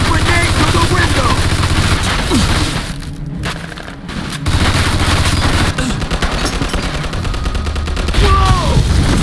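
Heavy automatic machine gun fire in the Mafia II video game, a loud sustained barrage with booming impacts and a brief lull midway, voices mixed into the din.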